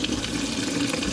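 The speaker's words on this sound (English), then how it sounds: "it's a lot of coolant. Is that where all the coolant went?" Coolant gushes steadily out of a disassembled Subaru EJ206 engine, a continuous close splashing pour with no break across the moment.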